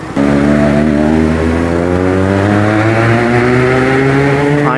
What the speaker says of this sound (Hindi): सुलेन चला रहा है अपनी बाइक